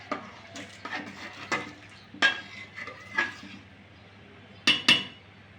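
Khichuri being stirred in a pot after salt and turmeric go in, with a utensil scraping and clinking against the pan in irregular strokes, a couple of sharper knocks near the end, no talking.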